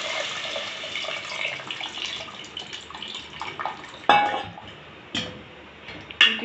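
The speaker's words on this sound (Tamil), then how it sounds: "புளியை கரைச்சி ஊற்றிக்கோங்க." Dissolved tamarind water poured into a pan while making sundakkai vathal kulambu, a steady close splashing trickle with a few clinks and short bursts near the end.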